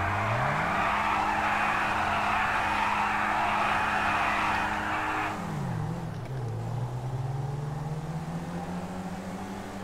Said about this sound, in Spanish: también quemando rueda ha salido rápido el coche